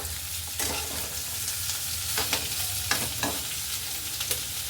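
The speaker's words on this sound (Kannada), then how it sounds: "ಮೀಡಿಯಮ್ ಫ್ಲೇಮ್ನಲ್ಲಿ ಇಟ್ಕೊಂಡು ನಾವು ಒಗ್ಗರಣೆನ ಹೀಗೆ ತಿರುವಿ ಬೇಯಿಸ್ಕೊಳ್ತಾ ಇರಬೇಕು" Capsicum and rice tempering for capsicum vangibath frying on medium flame in a pan, with a steady close sizzle broken by several scraping stirs of a spatula, no voices.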